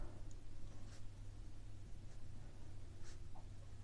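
A pen scratches across paper as maths working is written out, giving faint, close, continuous scribbling strokes over a low background hum, with no talking.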